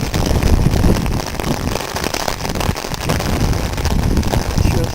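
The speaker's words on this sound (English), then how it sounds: "Now it's raining really hard now." Heavy rain pours down in a steady, loud roar with gusty wind buffeting the microphone, a continuous wash of noise with no breaks.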